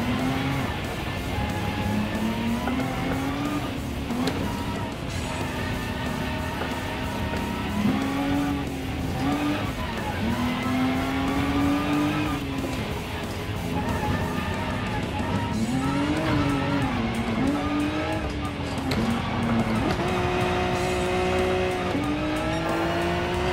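Rally car drifting in the racing game Gran Turismo Sport, a continuous engine note rising and falling through gear changes with tire squeal and skidding, loud and sustained for the whole stretch.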